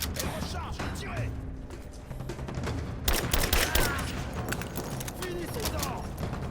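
Gunfire in a large battle in Rise of the Tomb Raider, dense bursts of shots and booms in a continuous barrage, loud, with French voices shouting over the fighting.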